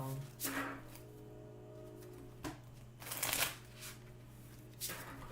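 Tarot cards are shuffled by hand during a reading, with three quick riffling bursts separated by pauses, close and fairly quiet over a low steady hum.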